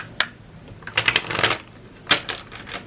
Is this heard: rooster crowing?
no